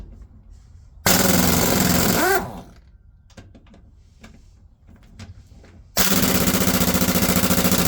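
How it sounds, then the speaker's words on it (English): A pneumatic impact wrench set to reverse at speed 5 and powered by a basic air compressor removes lug nuts from a truck wheel: two loud, sustained rattling bursts, one at the start and one near the end, with quieter clanks and handling noises between them. "got the impact here set to reverse speed 5, and we're just going to see how long it takes for me to remove all of the lug nuts off this"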